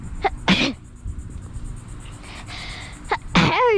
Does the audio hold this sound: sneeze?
yes